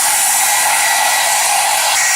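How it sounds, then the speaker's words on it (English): A handheld blow dryer runs steadily and loudly, drying a damp 360 lace frontal wig after dyeing and rinsing, with a constant airy roar and no voices. "I'm still drying my 360 lace frontal. I'm using a hand blow dryer"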